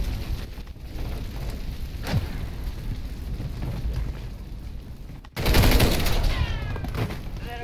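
Gunfire in the video game Call of Duty: Modern Warfare III, a steady rattle of shots through the first five seconds, then a louder close burst with a sharp crack near the middle, ringing on to the end.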